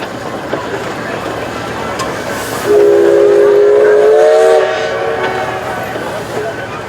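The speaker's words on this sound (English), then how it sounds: "This has got a wonderful whistle." A steam traction engine's whistle blows one long, steady, loud blast for about two seconds over a low murmur of outdoor background noise at a steam and vintage rally.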